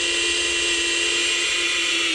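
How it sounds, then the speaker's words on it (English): High-pitched whine of a drill grinding steadily into a metal brake rotor, constant and close, with no speech. "We're gonna drill this thing right out."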